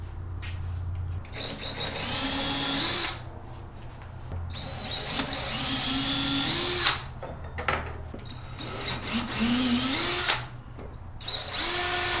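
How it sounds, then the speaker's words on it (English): A power drill whines through a wooden board boring pilot holes in several bursts, pitch rising as it bores, with short pauses between holes. "I'm also drilling these pilot holes just a bit bigger than the screw"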